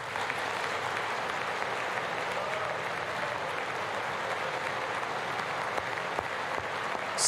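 Steady, sustained applause fills the chamber of the U.S. Congress during the 2020 State of the Union address, a dense even wash of many hands clapping at constant loudness from start to finish.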